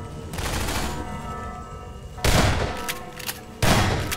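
Shotgun blasts in Half-Life 2: Episode Two: two loud, sharp booming shots ring out about a second apart after a stretch of noisy in-game rumble, with no voice over them.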